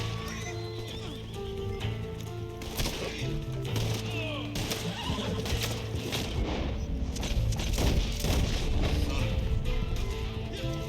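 Horse in a video game neighing and whinnying with clip-clopping hooves, several loud whinnies rising over a busy game soundscape with background music throughout.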